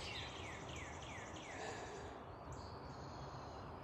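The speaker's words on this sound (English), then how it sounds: "The noises of the bird. Just listening to that. The noise of the birds." Birds chirp faintly in repeated descending calls during a morning jog outdoors in nature, heard far off over a steady, dense background hiss with no talking.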